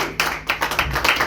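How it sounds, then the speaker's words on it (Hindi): Audience applause at a New Year 2023 celebration held by a social organization, a burst of clapping hands with uneven rhythmic peaks, moderately close and continuous through the short stretch. "जोरदार तालियां साक्षी बहन के लिए।"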